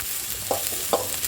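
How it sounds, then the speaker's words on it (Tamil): Onions, green chillies and curry leaves sautéing in oil for tomato chutney, a loud steady sizzle with two brief scrapes of a spatula. "இப்போ நல்ல வெங்காயம் வதங்கட்டும்."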